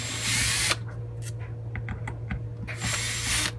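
Power drill backing screws out of a Ryobi Corner Cat cordless sander, with two short whirring bursts at the start and end, small clicks and handling noises between, close up under a steady background hum.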